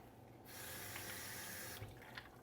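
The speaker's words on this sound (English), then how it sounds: "We're gonna go over to the sink now, fill it up with some water." Water runs from a kitchen tap into a sink, a steady rushing stream that starts abruptly, holds for over a second, then cuts off, leaving faint drips and clinks nearby.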